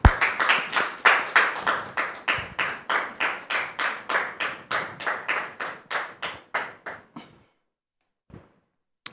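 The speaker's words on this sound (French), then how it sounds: "Recevons maintenant sous vos applaudissements" An audience claps loudly in a steady unison rhythm, about two dozen sharp claps that fade and stop, followed by near silence and one faint knock.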